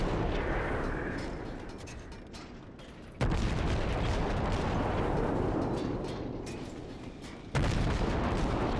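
A destroyer's deck gun firing high-explosive shells in a naval combat game, heard as two heavy booming salvos a few seconds apart, each followed by a long, loud rumbling decay that fills the space.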